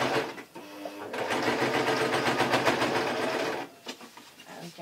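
A sewing machine stitches a taffeta dress skirt to its bodice, running in a fast, close, rhythmic whirring burst for about two and a half seconds, with short pauses and soft handling noises before and after.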